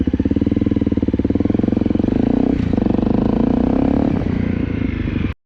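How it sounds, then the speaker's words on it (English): A motorcycle engine runs steadily and loudly up close with a rapid pulsing throb and slight rise in pitch, as on a test lap around a Fourth of July weekend ride, ending abruptly. "I'm gonna take a lap on it, make sure it doesn't fold up"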